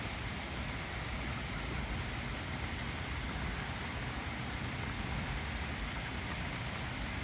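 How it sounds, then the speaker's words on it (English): Rain falls steadily outdoors, a dense, even hiss of drops that holds at a constant level for several seconds with no voices. "Beautiful, beautiful, sweet rain."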